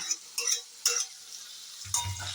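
Chicken masala being sautéed on high heat, with short scraping stirs and clinks of a spatula against the pot, followed by a low sizzle rising near the end.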